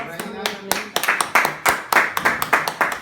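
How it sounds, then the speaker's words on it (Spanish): A church congregation claps in a Christian service: distinct, fairly close hand claps in an uneven rhythm, sharp and individually audible rather than a blended roar, with a voice faintly present underneath. "Dele fuerte el aplauso."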